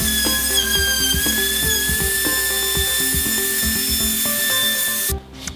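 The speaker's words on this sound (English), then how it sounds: "I got my chamfer bit to put in my router just to add a little more detail" A router with a chamfer bit whines at a steady high pitch while cutting wooden bed posts, with a continuous buzzing grind that cuts off abruptly near the end.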